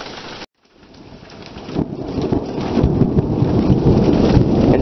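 Steady rain during a severe thunderstorm in Crestline, California, with a hiss that swells from a brief lull into a dense, loud wash and low rumbles beneath, no voices.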